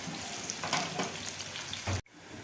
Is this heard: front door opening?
no